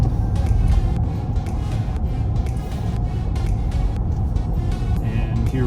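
A Cadillac Escalade on its factory intake accelerates, its engine a loud, steady, close rumbling drone that continues without break.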